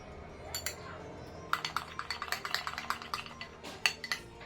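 Spoon stirring a thick papaya face pack in a small bowl, a run of quick, close scraping clinks in steady rhythm after a few scattered taps, with no voice over it.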